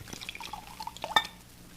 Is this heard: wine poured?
yes